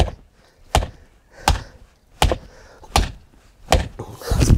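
An apple tree being knocked into place while planting, with about six separate dull thuds at a steady rhythm, close and fairly loud, and a rustling sound at the end.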